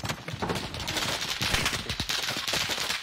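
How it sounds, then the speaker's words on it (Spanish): Rapid bursts of automatic gunfire in a multiplayer shooter video game, dense overlapping rattling shots throughout, loud and continuous with no pauses. "Estoy disparando de arriba."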